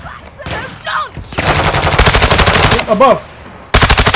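Rapid automatic gunfire from a multiplayer shooter video game, loud bursts of machine-gun fire that continue almost without pause and stop briefly before a final burst, with short snatches of a player's voice in between.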